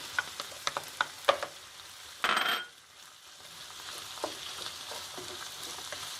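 Tomatoes tipped into a pan of sizzling curry-sauced chicken sauté with mushrooms and tomato paste set off a short loud hiss, then a steady softer frying sizzle with faint utensil clicks.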